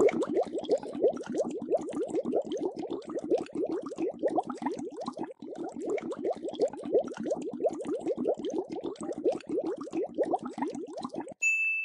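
An electric motor pumping water into a tank, a fast steady rattling pulse with splashing water that carries on evenly and fairly close, with no talk.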